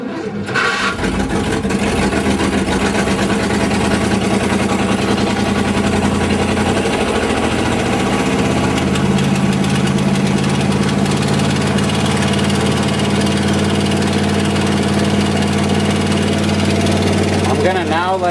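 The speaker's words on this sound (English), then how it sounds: "I'm gonna now let it run until it uses up all the fuel that's in that can" A 1978 International Loadstar Carpenter school bus engine runs at a steady idle, a loud continuous low rumble throughout with a slight shift in pitch midway, nearby and alone.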